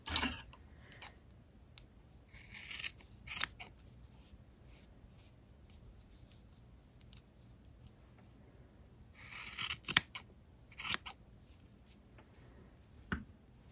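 Scissors snip loose crochet yarn ends on a small mosaic gnome ornament, giving a few quiet, scattered clicks and crisp cuts in bursts with pauses between, close by in an otherwise quiet room.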